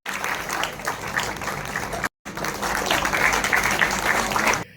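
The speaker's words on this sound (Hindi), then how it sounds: "सभागार में मौजूद छात्र छात्राओं और शिक्षकों ने तालियों की गड़गड़ाहट के साथ मेधावी विद्यार्थियों का उत्साहवर्धन किया" Students and teachers applauding in an auditorium, a sustained dense roar of clapping that breaks off briefly in a short gap and then resumes just as full.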